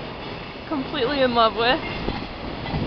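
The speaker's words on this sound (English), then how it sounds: "The noise you hear is the train." A train passes on tracks right beside a new house in Japan, a muffled rumble and clatter rising and fading under a person speaking close by.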